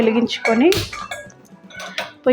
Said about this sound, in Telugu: ఇప్పుడు నేను ఇంకొక గిన్నె ఇలా పెట్టుకున్నానండి